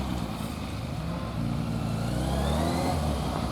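A car driven on a straight stretch during brake-dosing practice: steady road and engine noise, close and continuous, with a slight rise partway through as the car rolls on.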